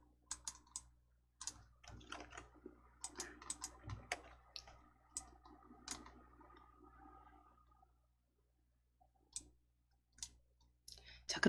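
Mouse clicks on a settings button in word-processing software, quiet crisp taps in irregular bursts with soft keyboard-like clicking, a silent stretch, then a few more clicks near the end.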